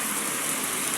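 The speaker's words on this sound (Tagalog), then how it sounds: "Wala nang tigil sa ulan." Heavy rain pours down in a steady, dense, loud hiss with no break and no voices.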